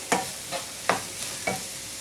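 Onions and green chillies sautéing in a pan for matar paneer bhurji: a steady close sizzle with four rhythmic scraping stirs of a spoon, no talking.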